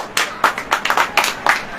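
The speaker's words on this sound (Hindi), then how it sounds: "ताली वाली बजाएंगे?" Audience clapping at a Hindi-language church sermon, a run of sharp, separate claps coming in short uneven bursts, fairly close and loud, with no talk over them.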